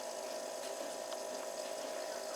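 A Keurig coffee maker's internal pump draws vinegar water through during a deep cleaning brew cycle, a faint steady whir with a constant tonal hum and light liquid hiss.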